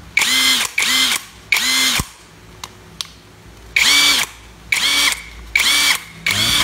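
A repaired cordless impact drill runs in unscrewing mode, giving seven loud, close, buzzing motor bursts of about half a second each. A brief gap falls in the middle of the series.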